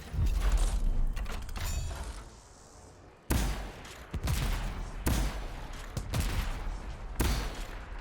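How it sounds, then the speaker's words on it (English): Heavy explosive launcher blasts from the video game Anthem, four sharp booming shots at roughly one-second intervals after a noisy stretch of mechanical clatter, loud and close. "it's like an ultra grenade launcher"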